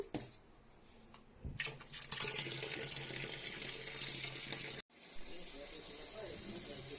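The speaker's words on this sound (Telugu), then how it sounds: "బియ్యం కడుక్కుంటున్నాను" Rice is washed by hand in water, giving a steady running-water splash and swish that swells loudly, breaks off briefly, then continues in a close kitchen setting.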